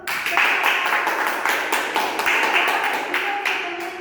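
Classroom students clapping during a teaching practice session, a brief run of fairly close, uneven claps from a small group, steady for a few seconds, with a voice faintly underneath.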